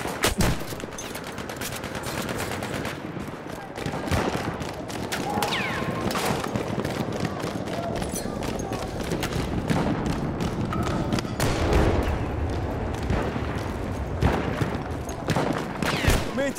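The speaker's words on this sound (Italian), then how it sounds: "Mitragliatrice nemica!" Enemy machine-gun fire rattles through a Battlefield 1 battle in rapid, nearly continuous bursts, mixed with heavier thuds and other gunshots at close to mid distance, loud and sustained throughout.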